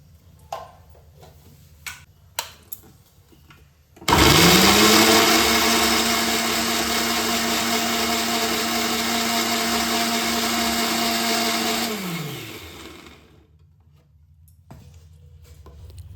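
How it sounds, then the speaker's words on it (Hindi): An electric mixer grinder whirs loudly and steadily for about nine seconds while grinding onion, green chili, garlic and ginger into a paste in a home kitchen. It starts abruptly after a few faint clicks and then winds down. "तो हमने ग्राइंडर ले लिया है, उसमें प्याज, मिर्च, लहसुन, अदरक डाल देंगे और फिर इसको पीसेंगे।"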